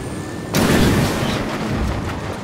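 A frag grenade detonates in Ghost Recon Wildlands, a sudden loud boom after a brief quiet stretch that leaves a long, dense rumbling roar trailing off.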